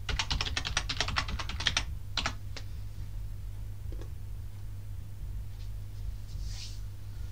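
Keys on a computer keyboard tapped in a quick run while entering a username and password for a Raspberry Pi login, with a few scattered clicks after a pause, fairly quiet over a steady low hum.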